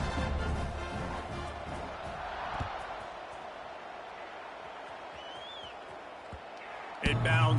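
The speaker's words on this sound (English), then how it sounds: "this crowd is buzzing after that last score" A large college football stadium crowd keeps up a steady, loud roar just after a touchdown, a broad wash of noise with scattered shouts inside it and a brief burst near the end.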